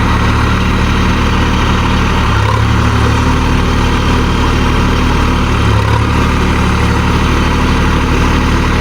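Sonalika 47 DLX tractor engine running close by, a loud, steady low diesel rumble with two brief deeper surges, continuous with no talk.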